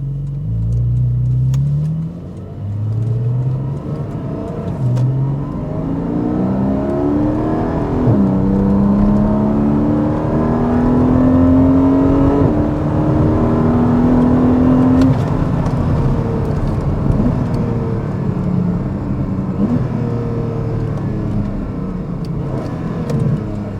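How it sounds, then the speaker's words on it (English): A 2025 Porsche 718 Cayman GTS 4.0 on a test drive, its mid-mounted engine's exhaust loud and close, climbing through rising revs with gear changes, then holding a strong sustained note before easing off; no talking. "The exhaust note is so much fun to listen to."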